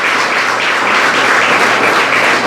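A church congregation applauding loudly and steadily, a dense continuous wash of many hands clapping that fills the space without pause.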